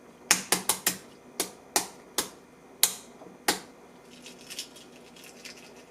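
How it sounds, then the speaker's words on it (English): Shell being cracked off an Instant Pot hard boiled egg, a quick series of sharp close taps and cracks, about ten distinct clicks then fainter crinkling. "That's probably the easiest time I've had peeling an egg."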